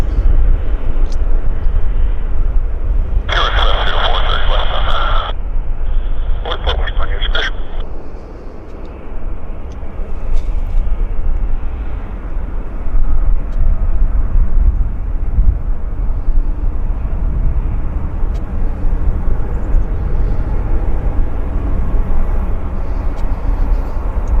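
Saab turboprop airplane moving at Vancouver airport, a loud, steady low engine rumble throughout, with a brief higher whine partway through.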